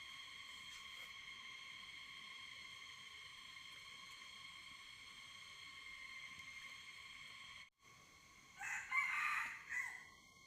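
A rooster crows once, fairly distant, over a steady high electronic hum that runs throughout.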